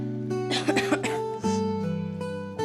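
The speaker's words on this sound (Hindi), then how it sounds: "मुझे कोल्ड हो रखा है, तो इसीलिए बार बार खांसी आ जा रही है।" A woman with a cold coughs in a quick cluster of harsh bursts in a home kitchen while cooking. A steady tonal hum runs underneath throughout.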